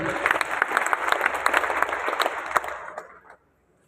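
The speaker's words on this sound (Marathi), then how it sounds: "संदीप सरांचं एकदा जोरदार टाळ्या बोलतो" Loud, sustained applause from a crowd of journalists at a media convention in Pandharpur, many hands clapping together before cutting off abruptly near the end.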